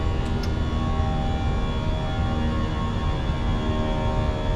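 Fenix A320 jet engines at climb thrust in a flight simulator: a loud, steady, broadband roar with a constant tonal whine, unbroken throughout.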